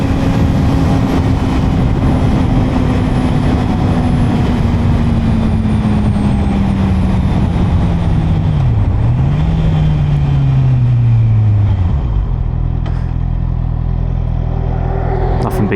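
A Honda CB650R motorcycle in third gear, its engine droning steadily as revs slowly fall, then dropping lower near the end, heard close over constant wind rush and under a rider's talk.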